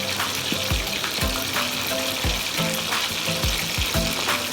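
Chicken fries in hot oil, a loud continuous sizzle crackling with bubbling, while repeated utensil scrapes and knocks come at an irregular rhythm close by.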